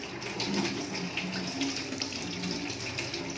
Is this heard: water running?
yes